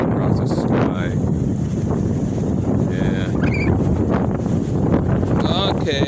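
Extreme wind roars outdoors in constant loud gusts that buffet the microphone, with a person speaking now and then beneath the blustery rumble.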